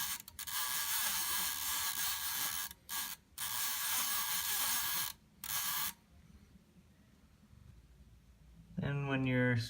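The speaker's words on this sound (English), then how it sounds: "Same principle, you're just winding it onto the other knob." Winding a typewriter ribbon onto its spool by turning the winding knob, giving a close, loud dry whirring and clicking in several bursts with short pauses, then going quiet before a voice speaks at the end.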